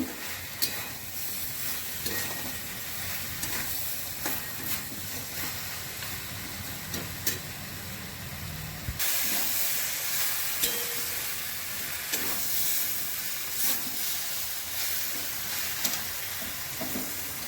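Spinach curry with fried lentil dumplings is stirred in a pan, with a continuous hissing sizzle, scraping strokes and clinks throughout, and a brighter burst of sizzle partway through.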